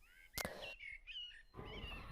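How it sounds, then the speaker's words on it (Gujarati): A faint cartoon sound effect of birds of prey arriving: bright, thin chirps and whistling calls, broken by one sharp click and followed by a rustling, flapping noise near the end. "પોપટભાઈ અને ચકલીબેન બજાર તરફ જવા નીકળતા જ હતા ત્યાં શિકારી પક્ષીઓ આવી પહોંચ્યા."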